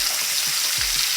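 Instant grits cooked with water fry in a pan, a brief, fairly loud, even sizzling hiss with a few soft low bumps and no voices.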